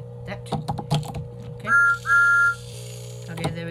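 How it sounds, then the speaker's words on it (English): A metallic blue TOMY steaming Thomas the Tank Engine toy train gives two steady, loud whistle blasts in quick succession, following some clicking and handling noises, with faint talk in the background. "Thomas just whistled"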